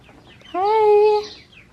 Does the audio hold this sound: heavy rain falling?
no